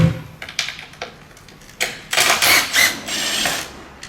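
Bolts being loosened and backed out of the lowering link area on a BMW S1000RR sport bike, a string of close ratchet clicks and metallic clunks, with busier ratcheting bursts toward the end, no talking.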